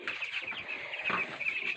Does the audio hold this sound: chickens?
yes